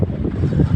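Steady, low wind rumble buffeting the microphone outdoors in Duero, Bohol, Philippines, broad and blustery with no other clear sounds.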